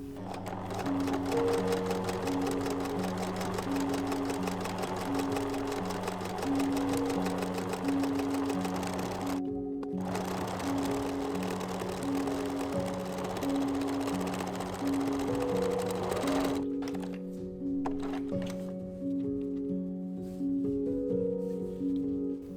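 A sewing machine top stitching a drawstring bag runs at a steady whirring pace, close and loud, pausing briefly twice before starting again and stopping near the end.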